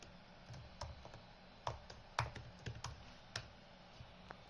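Irregular keyboard typing, soft clicking keystrokes in uneven bursts with pauses, close and quiet, with no talking.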